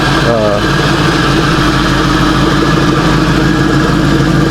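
A 1973 Ford Mach 1 Mustang V8, freshly re-tuned at the carburetor, runs at a steady idle, a continuous low rumble that stays loud and even throughout with no talking over it.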